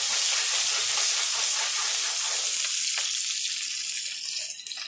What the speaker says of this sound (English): got my salted water boiling away like crazy back here